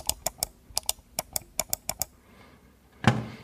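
Crisp, quiet clicks of a Logitech Lift computer mouse, about a dozen in a quick, irregular run close up, followed by a single louder knock.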